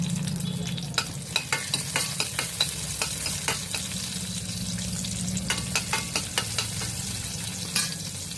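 Green chillies and a spice tempering of mustard seeds sizzle in hot oil in a kadai, with a steady frying hiss under repeated sharp clicks of a spoon stirring against the pan.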